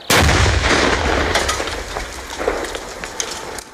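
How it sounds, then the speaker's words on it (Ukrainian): A controlled detonation of an unexploded munition by demining sappers on a blocked road in Kamianka, Ukraine: one loud, sharp blast with deep rumble, then a long rolling debris and echo tail fading over several seconds. "Сапери перекривають дорогу і підривають боєприпас."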